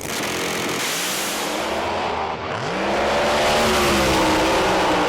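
A Chevrolet Camaro pro mod drag car at a British Drag Racing Championship round roars loudly and continuously, its engine note dipping and then climbing as it revs and pulls away.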